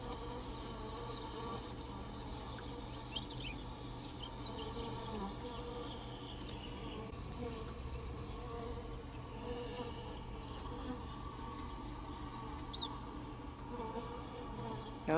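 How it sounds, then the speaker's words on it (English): Soft, continuous humming drone of many bees working inside a mahogany tree, heard up close and fairly faint, steady throughout with occasional brighter buzzes passing nearby. "Those are all the bees working hard, make a little humming noise with their wings."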